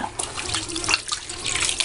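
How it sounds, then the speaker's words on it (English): Hot water runs from a tap while soaked items are being drained and re-soaked, a close, fairly loud splashing stream with uneven gurgles and bursts that continues throughout. "So I'm just gonna take the water out and let them soak again in some more hot water."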